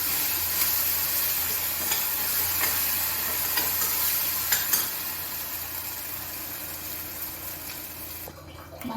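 Small onions and a dried chilli sauté in a hot pan for palak paneer, giving a steady close sizzle with scraping stirs and a few sharper spoon knocks, no talking.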